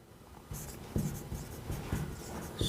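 Chalk or a marker scratches and taps across a classroom board in short strokes, a close, dry scraping with small knocks between words, heard alone without talk.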